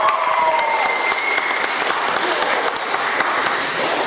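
A crowd at a Northumberland County jobs report event cheers and applauds steadily, dense clapping and whoops filling the room for about four seconds without pause.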